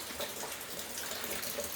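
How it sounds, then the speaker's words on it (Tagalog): Rainwater dripping and trickling on a rainy morning, a steady wet patter and splash with no voices. "pumapatak na tubig dyan"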